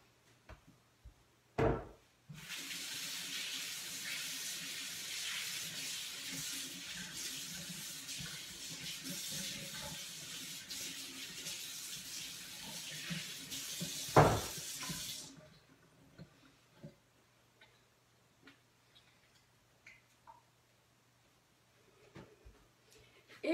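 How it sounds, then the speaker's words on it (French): Tap water runs steadily into a sink for about twelve seconds while fingers are rinsed, close and moderately loud, followed by quiet kitchen clatter. "Je vais aller me rincer les doigts."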